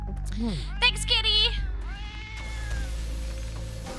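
A cat meowing in a video game, several drawn-out, rising and falling meows in quick succession, loud and close, followed by a quieter trailing cry over a low steady game hum.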